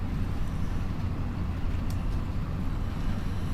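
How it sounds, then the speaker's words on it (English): Tractor driving across a field while drilling in Farming Simulator 25, a continuous low engine drone that holds steady and even throughout, with no voices over it. "See how this tractor handles it coming back up the field."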